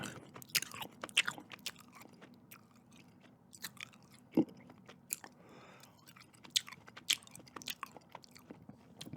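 Chewy fruit-flavoured Mike and Ike candies being chewed close to the mic, with soft sticky mouth clicks and a few sharper bites spaced irregularly against a quiet background.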